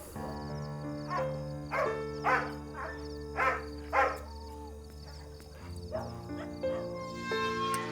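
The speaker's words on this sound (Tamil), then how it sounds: "இங்கே நாய் குலைக்குது" Several sharp dog barks sound in a Tamil film scene, coming in a quick irregular series over steady background music before fading out.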